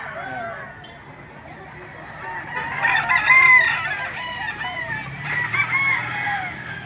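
Roosters crow and chickens cluck in a busy crowd of fowl, with people talking nearby amid the bustle of a chicken market in Lipa, Batangas, Philippines.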